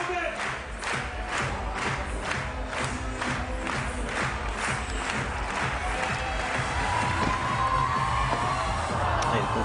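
A pole vault meet crowd in Lausanne claps in a steady rhythm, then breaks into broad cheering and applause that fills a large outdoor stadium.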